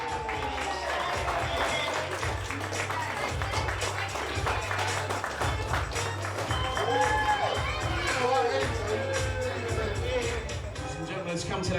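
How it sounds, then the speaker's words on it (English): Wedding guests applaud at an evening reception, steady broad clapping mixed with crowd murmur and a cheer or two over a thumping low beat of background music, sustained throughout. "Let's have a nice round of applause."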